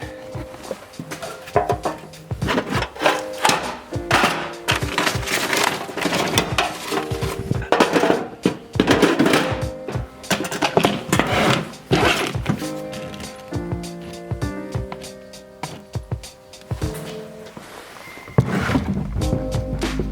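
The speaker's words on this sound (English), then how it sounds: "Now we can go ahead and remove this carpet." Floor carpet is pulled out of a 2016 Subaru WRX in a rapid run of close rustles, thumps and plastic clatters. The scraping and knocking keep going without a break, with no speech.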